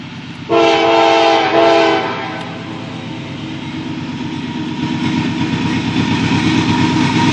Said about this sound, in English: CSX grain train.